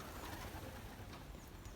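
Belgian racing pigeons in a large flock of over a hundred birds near a loft, cooing faintly and continuously in the distance over steady outdoor background noise.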